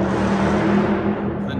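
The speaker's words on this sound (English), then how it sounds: "Unnecessarily loud car." A loud car passes on a downtown Louisville street, its engine roar heavy and sustained at close range before fading away at the end.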